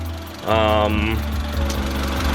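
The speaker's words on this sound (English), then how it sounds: "engine change is done. Running up now." A car engine idles steadily after an engine replacement, a continuous low drone with harmonic bands starting half a second in, briefly overlaid by a louder rising whine or speech-like tone, then settling into an even running hum.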